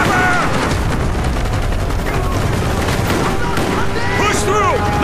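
Rapid bursts of machine gun fire ring out in a Call of Duty: Black Ops jungle village battle, dense crackling volleys with scattered booms, mixed with shouted voices.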